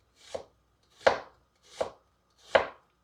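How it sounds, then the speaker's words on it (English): Four slow, evenly spaced knife strokes slicing through an onion onto a cutting board, each a close, crisp chop followed by silence. "we're slicing our onions and we're moving our fingers"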